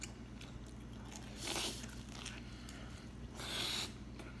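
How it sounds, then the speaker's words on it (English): Two crisp bites into a Taco Bell Toasted Cheddar Chalupa taco crunch up close and quiet, one near the middle and one near the end, with no talk. "I forgot to give you guys a bite on the next taco."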